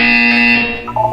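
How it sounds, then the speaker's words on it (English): A single sustained electronic buzzer from the video game Portal 2 sounds steadily and fairly loud for about half a second, then fades, followed by a few brief higher synthetic tones. "When you hear the buzzer, look up at the ceiling."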